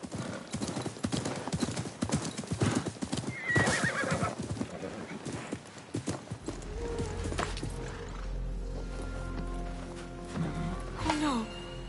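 Horse hooves clip-clop in a steady walking rhythm in a video game, then a horse neighs loudly nearby, with a game character's voice speaking over part of it.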